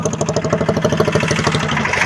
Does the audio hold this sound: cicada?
no